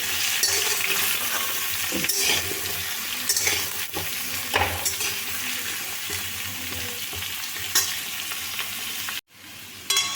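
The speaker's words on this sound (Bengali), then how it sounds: "কুমড়োটা গ্যাসের ফ্লেম কম করে পাঁচ সাত মিনিট ভাজতে হবে" Pumpkin pieces frying in oil in a pan over a low gas flame, a continuous dense sizzle close up with intermittent stirring scrapes, cutting off briefly near the end.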